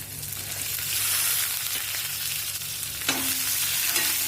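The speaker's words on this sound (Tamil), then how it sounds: "வெங்காயம் பூண்டை நல்லா வதங்கணுங்க." Small onions, garlic and chilies sauté in a pan for pirandai (adamant creeper) chutney, giving a steady, close sizzle throughout. A brief scrape of stirring comes partway through, and no one speaks.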